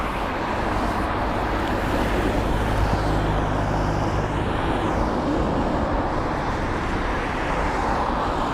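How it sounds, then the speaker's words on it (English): A Lufthansa Airbus A320neo jet departs Heathrow, giving a steady, broad engine roar that holds at even strength throughout, with a faint rising whine partway through and no voices. "That would be Lufthansa. On departure, the A320 Neo."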